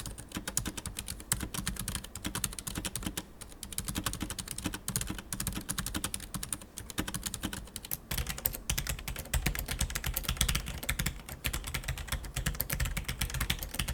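Fast, continuous typing on a Ducky One 2 Mini 60% keyboard with silent red switches: dense, close-up keystroke clatter with no talking.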